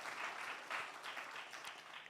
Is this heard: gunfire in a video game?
no